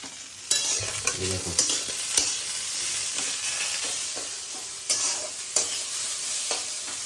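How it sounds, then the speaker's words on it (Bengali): Vegetables and egg fry in a pan with a bright, continuous sizzle, broken by several sharp scraping and clanking stirs of a spatula against the metal. "তরকারি ডিম দিয়ে এটাকে জাস্ট একটুখানি ভেজে নেবো"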